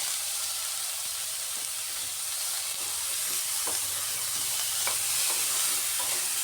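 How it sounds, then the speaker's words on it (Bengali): Pointed gourd coated in turmeric is stirred in a frying pan: a constant hissing sizzle with intermittent spatula scrapes and clicks, close by and unaccompanied by voices. "হলুদ দিয়েও ভালো করে নেড়ে করে পটলগুলো এইভাবে রাখতে হবে"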